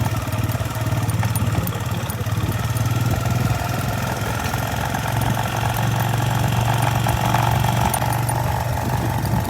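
A motorcycle engine idles and runs steadily nearby, a continuous low chugging hum with no voices.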